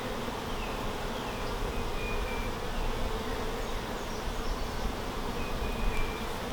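Honey bees buzzing around a new hive during its first inspection, a dense continuous hum of many insects close by, steady throughout with occasional individual bees droning past.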